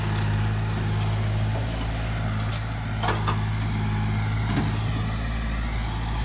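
Tractor engine idles steadily in a field, a constant low drone with faint background noise and no talk.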